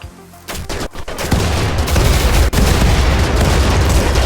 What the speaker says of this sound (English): this guy has a triple rocket launcher